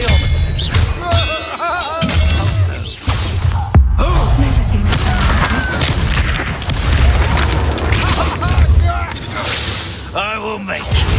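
A Hogwarts Legacy duel with Expelliarmus spell impacts: repeated booms, whip-like cracks and shattering clinks over a continuous roar of combat effects, with voices speaking throughout.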